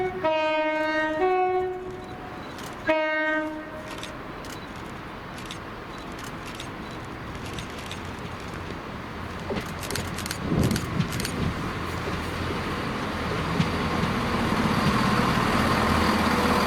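A ScotRail Class 170 diesel unit sounds two loud horn blasts, then its engine and wheels rumble past at a distance and swell toward the end, with no speech.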